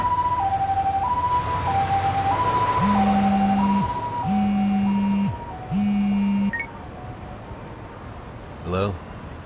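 An ambulance siren in the video game Lost Judgment wails loudly in a steady two-tone pattern with a buzzing horn overlaid in bursts, close and continuous, ending with a brief electronic chirp.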